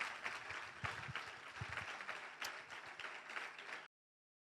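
A church congregation claps together for several seconds in dense, fairly even applause with a few sharper claps standing out. It sounds distant and quiet, with no voices over it, and it cuts off abruptly.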